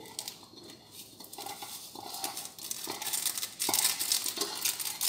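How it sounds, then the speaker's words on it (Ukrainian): Sugar and citric acid being stirred into water for homemade bread kvass, a soft scraping and clinking of a spoon against the container that grows busier and louder toward the end, with no talking. "І це все діло добре розмішуємо до повного розчинення"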